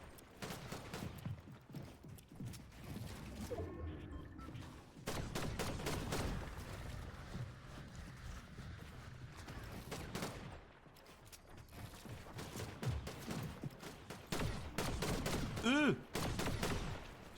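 Shotgun blasts from an exotic shotgun in a video game, sounding as repeated sharp bursts mixed into a busy, loud battle soundscape, with an excited commentator talking over much of the action.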